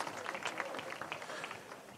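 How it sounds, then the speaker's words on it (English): A gathering at the end of a fishing competition day gives a warm round of applause, a soft, fairly distant patter of many hands clapping at an even level. "Nice warm round of applause for him there"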